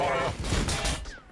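Incoming gunfire in a Warhammer 40,000: Battlesector multiplayer match between Blood Angels armies, a short, dense crackling volley of impacts and blasts that quickly fades out.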